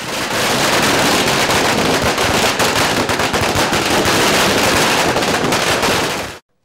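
Dense, loud crackling of firecrackers bursting at a political party victory celebration outside its headquarters, a rapid, continuous barrage of pops lasting several seconds, then cutting off.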